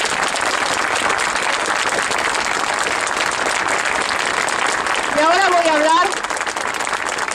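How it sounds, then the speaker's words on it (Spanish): A crowd applauds at a Madres de Plaza de Mayo Thursday march, with dense continuous clapping, voices and a brief whistle or cheer rising above it. "Un aplauso para ellos."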